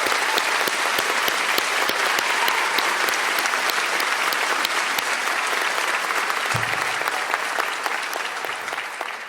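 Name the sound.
round of applause at graduation ceremony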